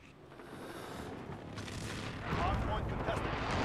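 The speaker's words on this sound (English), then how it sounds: "Allied precision airstrike in." Heavy rolling booms of an allied precision airstrike in Call of Duty: Modern Warfare multiplayer, a dense rumble that builds and grows louder over a few seconds, with faint voices underneath.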